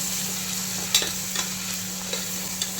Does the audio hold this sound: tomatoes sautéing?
yes